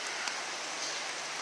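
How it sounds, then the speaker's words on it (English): Steady rain falls outdoors, a dense, even hiss of drops on surfaces with no pauses, fairly close and moderately loud throughout. "Let me get out of this rain."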